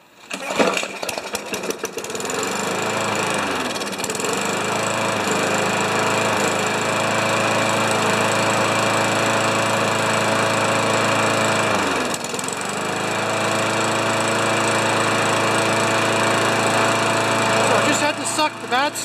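A Yard Machines lawn mower engine with a clogged carburetor runs steadily and loudly up close, its drone dipping briefly a couple of times, with a voice faintly over it.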